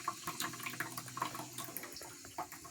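Water runs slowly into a toilet tank during a plumbing problem, a faint, steady trickle and splash with small gurgling bursts, close by and with no talking.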